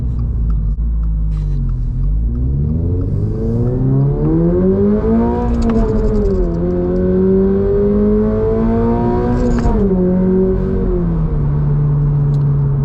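A 2024 Subaru BRZ Limited engine revs loudly while driving, its droning pitch climbing, dipping and climbing again before settling into a steady rumble.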